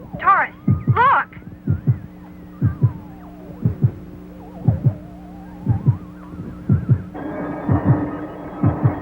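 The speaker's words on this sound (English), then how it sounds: "That's actually the heartbeat of that chimpanzee." A chimpanzee's heartbeat in a space cartoon, heard as a steady, slow series of low thumps with a humming tone running underneath, and a brief voiced cry near the start.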